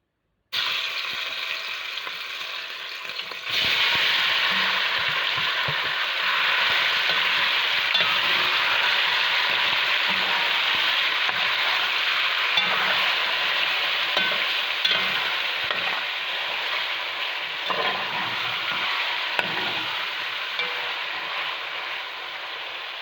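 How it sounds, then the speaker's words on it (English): Meat browning in a pot for Guyanese cook-up rice, a steady loud sizzle with the spoon scraping and stirring through it at intervals, close by and without talk. "the first thing I'm doing is to fry up my meat"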